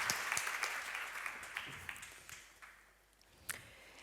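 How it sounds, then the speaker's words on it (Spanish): Audience applause at a round-table session on easy-to-read literature, quiet and somewhat distant, fading out toward the end with a few sharper claps. "I les podem aplaudir."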